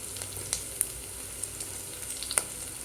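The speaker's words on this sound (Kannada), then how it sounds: "ಸ್ವಲ್ಪ ಗರಂ ಮಸಾಲ ಎಲ್ಲನೂ ಹಾಕಿ ಚೆನ್ನಾಗಿ ಆಡಿಸ್ಕೋಬೇಕು" Ground spices such as chilli powder, turmeric and garam masala sizzling in hot oil in a pan for dhaba-style aloo saag, a soft steady fry with scattered light stirring clicks close by.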